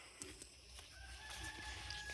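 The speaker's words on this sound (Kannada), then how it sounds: "ಕೋಳಿಗಳು ಓಡಾಡ್ತಿದ್ದಾವೆ ನೋಡಿ" Chickens clucking and calling faintly at a distance in an open outdoor area, a few soft cackles and a drawn-out crowing note over steady background hiss.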